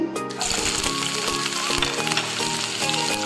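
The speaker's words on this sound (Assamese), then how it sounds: "কেৰাহী গৰম হৈছে, তেলো গৰম হৈছে, গতিকে মই এতিয়া পিঁয়াজখিনি দি দিম।" Onions go into hot oil in a wok, giving a bright, continuous sizzle and crackle of frying close by, with no talking.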